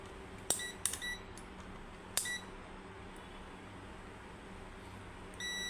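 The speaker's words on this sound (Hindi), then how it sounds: "ऐसे बीप सुनाई, क्योंकि मैं एक ही पिन पे लगा रहा हूँ तो बीप ही सुनाई देगा" Three sharp electronic beeps from a multimeter on continuity test across a shorted resistor, two close together early and one a little later, each brief and clear over a quiet hum.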